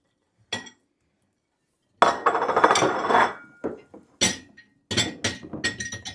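Metal utensil clinking and scraping in a dish while meat is shaken and stirred with chia seeds and oats, irregular close clatters and scrapes separated by short silences.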